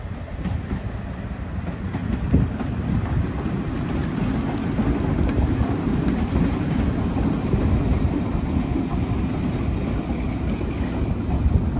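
A train pulls into Quorn and Woodhouse station on the Great Central Railway, rolling steadily close by, a sustained heavy rumble with faint rhythmic clatter of wheels on track, no voices.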